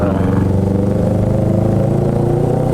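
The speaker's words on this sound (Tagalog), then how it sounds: "Oh, yun yung mga gusto kong motor." A motorcycle engine hums steadily up close on a road, a low rumbling drone with a faint clatter and slight revving, continuous throughout with no talk.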